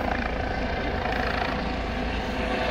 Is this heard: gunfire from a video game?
no